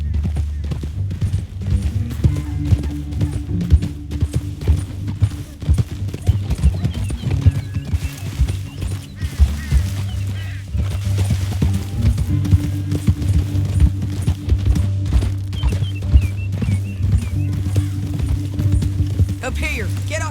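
Horse hooves gallop in a fast, steady clip-clop through the whole stretch in Red Dead Redemption 2, loud and close over a sustained low musical drone, with occasional voices.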